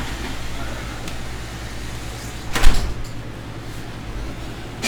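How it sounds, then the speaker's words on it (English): A door is pushed shut against the wind with one brief thud partway through, heard amid steady wind and a low background rumble. "Probably should close the door because of the wind"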